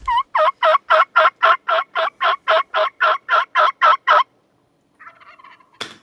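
A wild turkey gobbles in a rapid run of about fifteen loud, evenly spaced rattling notes, clear and fairly close, then falls silent before a softer, fainter call and a brief click.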